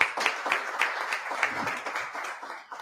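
An audience at a climate change conference gives a round of applause, scattered overlapping claps of moderate loudness that gradually thin and fade over a few seconds.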